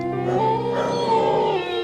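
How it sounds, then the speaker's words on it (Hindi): Dogs outdoors howling and whining at night in a drawn-out, wavering cry, fairly loud and close, with no one talking. "कुत्तों के भौंकने की आवाजें आ रही थी,"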